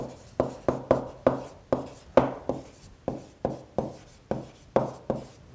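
Pen strokes on paper during an algebra lesson, a steady run of about fourteen short, crisp scratches and taps in quick rhythm, close and clear with no voices.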